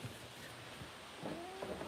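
A cat indoors in a quiet room gives a short, faint meow near the end, with soft room noise before it.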